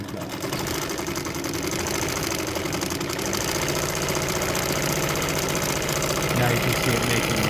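A Bernina 830 Record sewing machine runs a satin stitch, its steady loud motor hum and fast rhythmic needle clatter carrying on throughout without a break.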